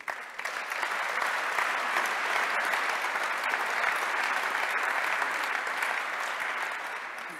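Sustained applause from an audience at an awards ceremony, steady and dense for several seconds, then tapering slightly at the end.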